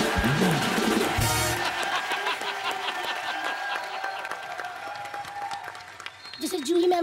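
A television comedy show audience breaks into loud applause and cheering, then the clapping thins and fades over several seconds while music and a voice carry on underneath.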